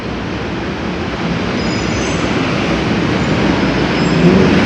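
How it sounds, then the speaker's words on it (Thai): Steady rumbling of an elevated BTS Skytrain in Bangkok, a continuous roar with faint high squeals, growing slightly louder toward the end, no voices. "จะมี รถไฟฟ้า วิ่งอยู่นะคะ"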